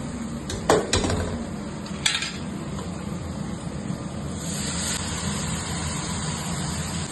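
Washed chicken pieces tipped into a hot pan for South Indian pepper chicken, with a couple of sharp clatters of metal utensils early on over a steady background sizzle and hum.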